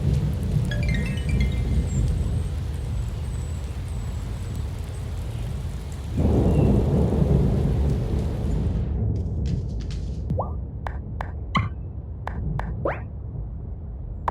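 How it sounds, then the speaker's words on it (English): Steady summer rain in the video game Wylde Flowers pours with a low rumble of thunder, then cuts off abruptly, leaving a few scattered drips and clicks. "I love summer rain. It starts and stops so fast, but it's still really intense when it's happening."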